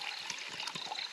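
Water is poured into a pot for cooking instant noodles at a night campsite beside Syarpu Lake, a brief close trickling and splashing stream.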